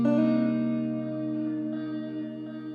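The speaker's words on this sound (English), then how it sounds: "Added some delay, some reverb." A smooth neo-soul R&B music fill rings out with delay and reverb, sustained tones slowly fading into an echoing tail with no voices.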